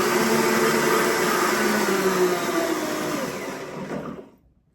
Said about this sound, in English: So let me run this blender